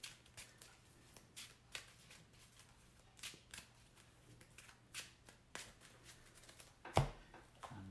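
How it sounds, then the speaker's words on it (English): A deck of investigator cards for a tabletop card game is shuffled on a table mat: repeated soft riffling and sliding bursts at an uneven rhythm, close and quiet, with one sharper knock near the end. "I'll just shuffle up my investigator deck on camera just to be on the safe side."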